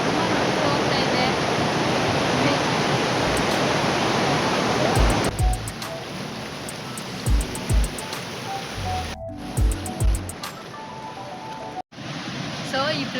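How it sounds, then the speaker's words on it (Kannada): Yadamuri waterfall sends a loud, steady rush of flowing water that fills the first five seconds, then the roar drops back behind nearby voices and thumps as someone talks. "ಅಲ್ಲೆಲ್ಲ ತುಂಬ ನೀರು ಹೋಗ್ತಾ ಇದೆ"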